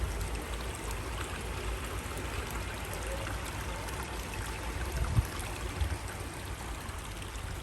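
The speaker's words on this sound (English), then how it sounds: "just let us listen to the rippling of the water" Gently rippling water from a pond in a humid indoor butterfly house garden, a continuous soft trickling wash with a faint splash or two near the end, no voices present.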